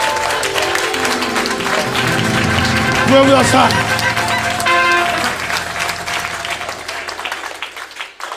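A church congregation claps and cheers loudly for several seconds, with voices calling out over the applause before it thins and fades, and a speaker talks briefly.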